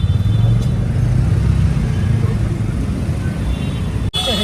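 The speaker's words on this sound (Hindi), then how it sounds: "कितनी भीड़ हो रही है, भीड़ है, ट्रैफिक है कितना" Road traffic on a crowded street by a ghat forms a loud, continuous rumble of engines and vehicles with no break in the noise.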